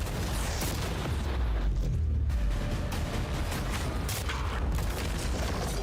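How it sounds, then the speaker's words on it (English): Cannons fire at a yacht, producing heavy, continuous booming blasts and rumbling impacts that fill the scene loudly throughout, with no talking. "All right, Sean, we're about to fire the cannons at your new yacht."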